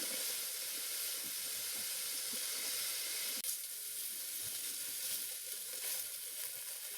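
Chopped onion fries in a pan for a chicken stew, a soft, continuous sizzle and hiss of hot oil with faint stirring scrapes, fairly quiet and steady throughout.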